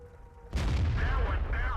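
A tank gun shot bounces off an IS-3 heavy tank in World of Tanks: a sudden loud boom and ringing metallic impact that rumbles on for over a second, heard close after a quiet lead-in.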